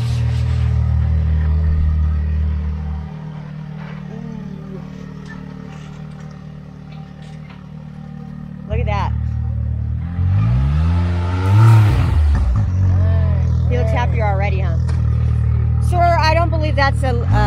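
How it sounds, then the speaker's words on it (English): A 2020 Polaris RZR Pro side-by-side with an Evo full exhaust drives through woodland trails, its engine rumbling low then revving and surging loudly near the midpoint, with gear whine and bursts of throttle following close by. "There's nothing like the sound of a Evo full exhaust in the woods on a nice Monday morning"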